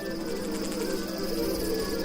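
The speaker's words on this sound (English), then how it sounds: "All the insect life." Insects chirp on Pinta Island in the Galapagos, a dense, continuous cricket-like trill with steady layered pulsing and no voices.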